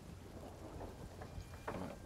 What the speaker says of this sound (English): Oh, mate, it's raining.